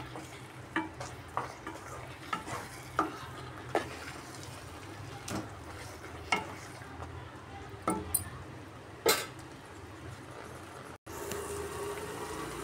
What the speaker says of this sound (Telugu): బాగా కలుపుకుని ఒక 2-3 నిమిషాలు బాగా ఫ్రై చేసుకుందాము